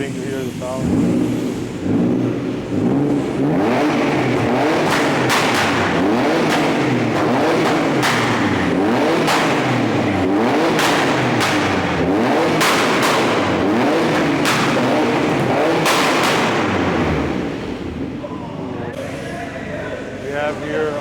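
A red Lamborghini Urus Performante with a carbon fiber hood revs repeatedly at a car meet at the Jeddah F1 circuit, its engine rising and falling loudly and roaring close by, with crowd voices underneath throughout.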